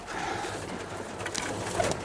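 Birmingham Roller pigeons coo softly in a loft where hens and a cock bird sit on eggs, the low murmuring steady under faint background noise, with a brief higher call near the end.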